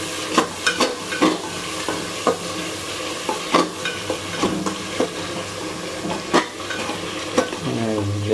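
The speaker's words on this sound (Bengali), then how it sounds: "এবার সুন্দর করে ভাজা ভাজা করে নেব।" Spices with salt and turmeric fry with country chicken meat in a pan, a steady close sizzle broken by frequent sharp scrapes and knocks of a stirring spoon, with no talking.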